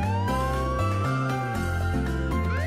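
A fire engine siren wails continuously and loudly nearby, its stepped tones shifting in a repeating pattern, with no voices.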